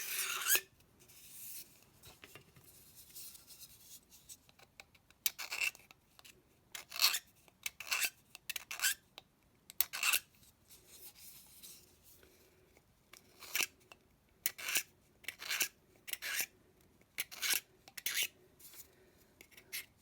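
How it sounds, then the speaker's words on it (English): A blade scraping excess plastic off a Loadstar II model kit part, giving faint, close, dry rasping strokes in irregular short bursts with brief pauses between them. "If you try cutting instead of scraping, you're going to end up cutting into the plastic"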